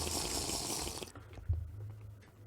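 A video game waterfall gives off a loud, rushing splash for about a second, then drops away to a faint trickle with a low hum underneath.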